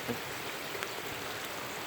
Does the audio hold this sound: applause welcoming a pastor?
no